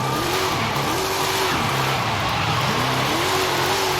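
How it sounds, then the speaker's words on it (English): A car drifts in the Forza Horizon 5 racing game, its engine droning loudly and steadily while the tires squeal in long, wavering wails through donuts and figure eights. "We'll do a couple donuts, couple figure eights around here, see how it is"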